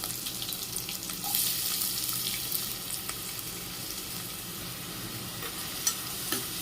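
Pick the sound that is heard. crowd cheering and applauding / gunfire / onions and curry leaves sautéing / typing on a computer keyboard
onions and curry leaves sautéing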